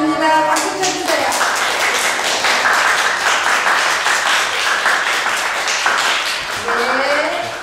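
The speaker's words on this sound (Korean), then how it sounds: "박수 쳐주세요." Wedding guests applaud the newly married couple at a traditional Korean wedding ceremony, a dense, steady round of clapping lasting several seconds, with music and voices mixed underneath.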